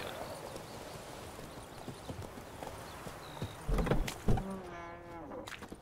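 Horse hooves clip-clop in The Witcher 3 video game, steady soft footfalls with game ambience and a few louder thuds and a horse snort near the end, under faint talk.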